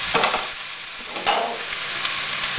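A whole onion goes into a pot of browning meat, giving a steady loud sizzle with a few scraping stir knocks and no talking.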